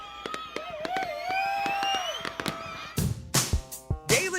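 Fireworks for a new year celebration: crackling bursts and booms, several close loud explosions in quick succession after a quieter stretch of whistles and crackle.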